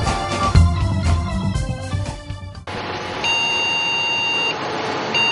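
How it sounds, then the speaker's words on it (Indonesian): A computer with its RAM missing sounds a beep alarm as a steady, high electronic tone over a low fan hum, continuing without a break after a brief clatter. "komputer sama sekali tidak menyala dan alarm akan terus berbunyi"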